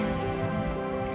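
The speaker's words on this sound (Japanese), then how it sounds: "めちゃめちゃに雨降ってる。" Heavy rain falling at a Tokyo DisneySea boat area, a steady dense wash of drops drumming on surfaces, close and continuous with no voices.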